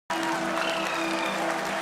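A crowd applauds steadily for an Indian lunar soft landing, a dense wash of clapping that runs evenly from start to end, fairly distant with faint tonal hum underneath.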